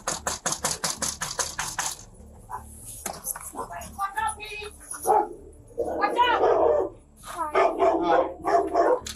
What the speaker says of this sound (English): make sure the dog doesn't come out.